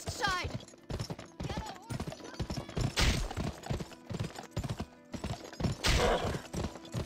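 Horse hooves clip-clop in the Wild West video game GUN, a quick rhythmic beat of hoofsteps mixed with gunfire-like bursts and game noise, with someone talking over it.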